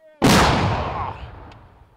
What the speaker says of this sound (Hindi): अब वो गोले दागने की तैयारी में है